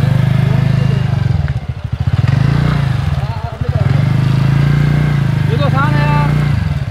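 A petrol scooter being ridden, its small engine droning steadily and loudly throughout with slight dips, while people talk over it.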